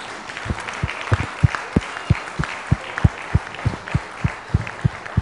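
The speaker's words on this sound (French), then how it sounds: "qu'on peut applaudir, et toute l'équipe" Audience applause at a town's 2016 New Year's greetings ceremony, a modest scattering of individual claps with distinct sharp hand strikes over a low murmuring room.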